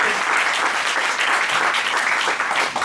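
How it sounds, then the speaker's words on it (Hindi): An audience at a Hindi fortnight celebration applauds, a dense, steady wash of many hands clapping together from start to finish, loud and unbroken. "तो आप हिंदी के लिए ताली बजा सकते हैं"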